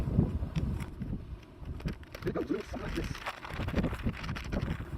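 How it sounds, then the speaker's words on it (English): Low, gusty wind rumble buffets the microphone throughout, rising and falling in uneven surges across the whole stretch. "It is so windy out."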